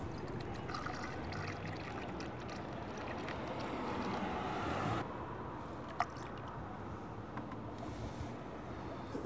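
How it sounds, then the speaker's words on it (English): Coolant pouring in a steady trickle into a funnel on a Toyota hybrid's inverter cooler, a soft continuous wash with a few small clicks and taps. "It's really hard to film this and pour coolant into a funnel."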